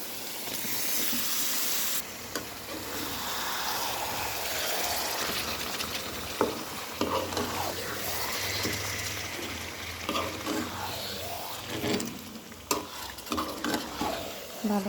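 About 1.5 kg of washed, cut beef hisses and sizzles steadily in a hot pan, with intermittent stirring clatter and sharp spatula scrapes growing busier toward the end; no voices.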